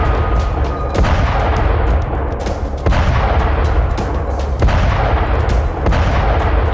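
Archer 155 mm self-propelled howitzer firing, a series of heavy booming shots spaced about a second or two apart, each followed by a rolling echo over constant background rumble.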